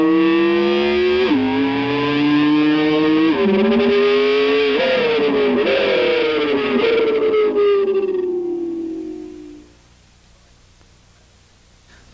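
Electric guitar with heavy distortion imitating a Ferrari engine, playing rising glissando pitches like gears winding up and dropping, then downshifting after third gear, loud and continuous before fading out near the end.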